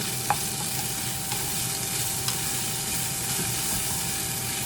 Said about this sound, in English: So I'm going to try to get a sear on these